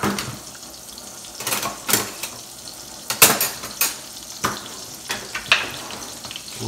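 Onion goes into a hot cooking pot with a sizzle, mixed with sharp clinks of utensil on metal and a few scraping knocks spaced irregularly, moderately close.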